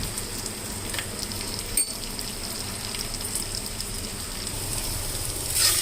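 Cashews fry in ghee in a pan for pumpkin halwa, giving a steady, fairly loud sizzle with a soft crackle, no talking.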